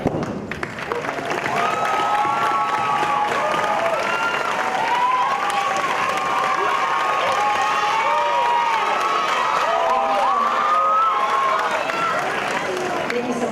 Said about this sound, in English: teachers and staff, please rise so we may applaud you